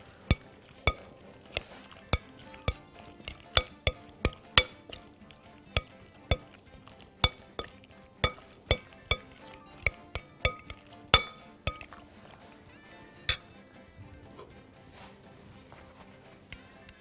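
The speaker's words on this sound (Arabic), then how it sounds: "شوية خل أبيض شوية فلفل أخضر ونقلب" A spoon stirring white vinegar and green pepper in a pan, with about two dozen sharp metallic clinks at an irregular, quick pace that thins out toward the end. A faint sizzle sits underneath.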